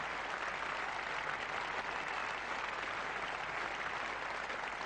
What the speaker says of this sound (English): Getting a great reception here from what's just about a full house now